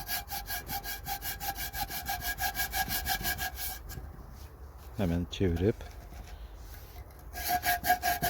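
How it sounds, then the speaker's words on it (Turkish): A small hand saw rasps through stone in steady back-and-forth strokes, pausing briefly while a voice speaks, then resuming its rhythmic cutting. "küçük bir el testeresiyle taşımızı kesiyoruz."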